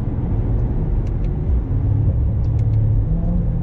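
A 2016 Chevrolet Corvette C7 Stingray launches hard, its engine holding a loud, steady low rumble close by throughout, with no talk over it.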